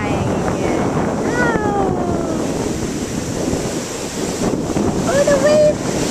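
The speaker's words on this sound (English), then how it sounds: "Oh, the waves! They're coming!" Ocean waves rush in a constant roar with wind buffeting the microphone; voices call out briefly over the surf.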